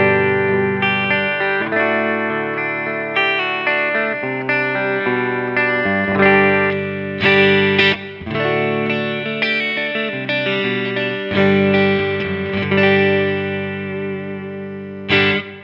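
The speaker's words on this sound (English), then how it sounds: "I've got the amp running clean just on the edge of breakup," A Schecter electric guitar played through a PRS HDRX20 amp set clean at the edge of breakup rings out in strummed chords and ringing notes, slightly gritty and sustained, with no talking over it.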